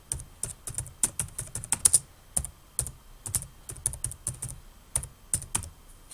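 Keys on a computer keyboard clatter in quick, uneven bursts with short pauses as words are entered into search fields of an electronic library catalog. The crisp clicks are close and clear, and no one speaks.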